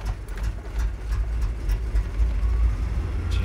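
Chevy 4.3 V6 truck engine running rough, knocking and grinding while still firing on all six cylinders; a steady, loud low rumble fills the whole stretch, with no talking over it.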